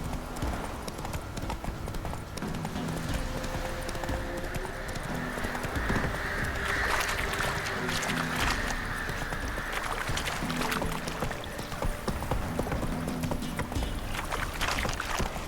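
In The Witcher 3, a horse gallops steadily, its rhythmic clip-clopping hooves running continuously under a dense wash of game music and ambience, with a brief whinny partway through.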